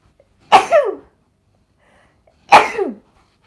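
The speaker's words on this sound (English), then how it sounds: "I think I'm gonna sneeze" Two sharp sneezes about two seconds apart, close and loud, each a quick burst trailing off, with quiet between them.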